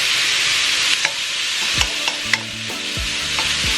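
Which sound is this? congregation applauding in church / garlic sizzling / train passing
garlic sizzling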